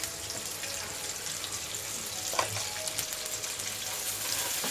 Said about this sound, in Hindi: अभी ये अंडे को भून रही हूँ, थोड़ा सा तेल डाली, जरा अंडे को भून रही हूँ।